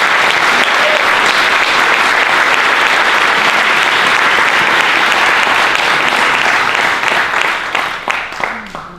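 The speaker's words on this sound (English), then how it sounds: "So please, give a round of applause to Steve James." A film festival awards audience bursts into loud, sustained applause that holds steady for several seconds, then thins into scattered claps as it dies away.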